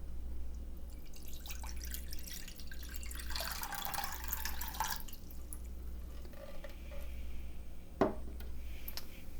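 Water poured for Korean kimchi paste, a soft splashing stream that swells in the middle, then a single sharp drip or clink near the end, quiet and close.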